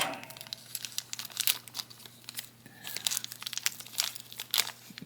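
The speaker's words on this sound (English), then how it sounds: "This is actually a two-part bag, so you have to cut twice to get everything out." Plastic packaging bag for a Transformers Studio Series Commander Class Optimus Prime toy being cut open and handled, giving close, repeated crinkling and crunching bursts in irregular clusters over a steady low hum.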